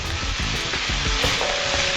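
Lumpia filling with peppers and garlic sauce is stirred as it fries in a pan, a loud, dense sizzle broken by rhythmic scraping strokes of the spoon or spatula.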